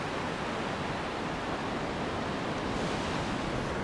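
Surf washing onto a beach in Madagascar at sunrise, heard as a loud, unbroken roar of breaking waves with no distinct individual crashes and no voices.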